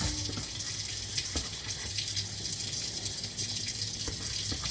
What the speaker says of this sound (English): I'm gonna wash the rice